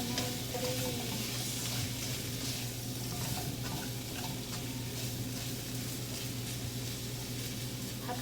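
Asparagus and shrimp stir-fried in a pan, heard as a soft continuous sizzle with stirring scrapes, fairly quiet and steady, with no voice over it.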